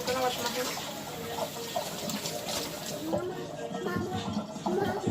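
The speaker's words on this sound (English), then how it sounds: "I'm gonna wash my hands." Tap water runs steadily into a kitchen sink while hands are washed under it, a continuous close splashing gush with small shifts in tone and no pauses.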